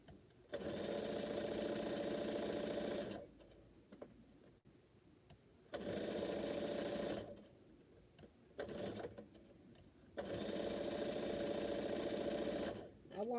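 Sewing machine stitching blocks of a pineapple quilt, running in long steady bursts of rapid needle chatter with short pauses between, close and loud.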